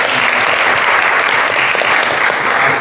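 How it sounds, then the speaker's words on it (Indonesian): A classroom of students applauding, steady dense clapping that stays loud and even throughout with no talk over it. "Oke, kasih aplaus lagi."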